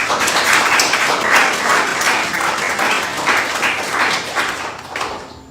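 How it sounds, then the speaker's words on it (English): An audience gives a round of applause at a cocoa production meeting. The clapping is dense and steady at close range, then fades slightly toward the end. "I wanted to give her a round of applause."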